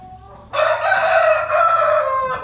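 A rooster crows loudly and close by, one long drawn-out call that starts abruptly and holds steady for about two seconds.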